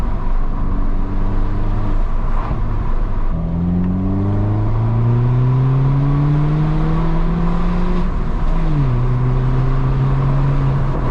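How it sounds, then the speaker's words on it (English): Straight-piped BMW 1 Series pulling hard through the gears, heard from inside, its loud engine tone climbing in long sweeps with a quick drop and brief pop at each upshift. "Little pop on the upshift as well."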